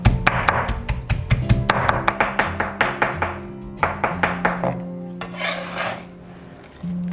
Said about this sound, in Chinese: 然后剁的话，我们就用刀背剁哈